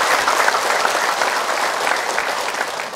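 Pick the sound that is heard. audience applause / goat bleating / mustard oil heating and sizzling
audience applause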